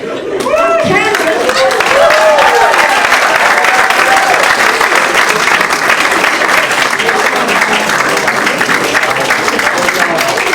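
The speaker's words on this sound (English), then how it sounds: "One more time for Tammy, everybody. Clap it up for her" Audience at a comedy club breaks into loud, sustained applause and clapping after a stand-up set, with some cheering voices mixed in and the ovation holding steady throughout.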